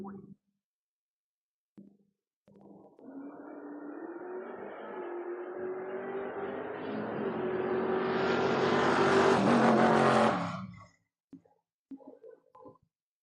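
A Mustang drag racing car at a door-class drag race launches from the far lane, its engine roaring up in a long, loud, rising run over several seconds before cutting off abruptly, with brief engine blips afterward.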